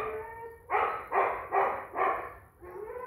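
A husky dog barks four times in a quick, evenly spaced sequence, loud and close, with a softer whine or yip at the end over a quiet background.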